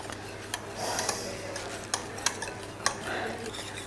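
Spoon scraping and tapping against a bowl while lemon cream is stirred as butter goes in, soft clinks and scrapes at an uneven pace over quiet room hum, with no talk.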